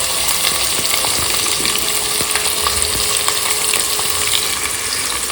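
Onions frying in a pan while cooking a Pongal meal, a loud, dense, continuous sizzle with faint clinks of stirring and no speech.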